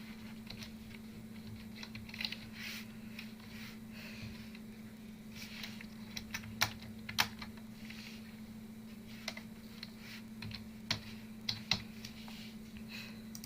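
Light, quiet typing on a computer keyboard, with scattered soft key taps and a few sharper clicks over a steady low electrical hum.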